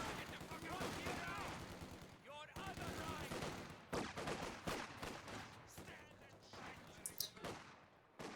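MG42 machine gun fire in a competitive World War II video game match, rattling in long, dense bursts punctuated by brief pauses, with other gunfire and explosions in the mix.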